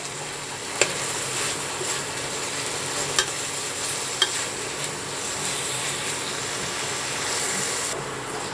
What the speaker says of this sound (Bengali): একটু ভালোভাবে নাড়িয়ে চাড়িয়ে শুকনো শুকনো করে মিশিয়ে নেবেন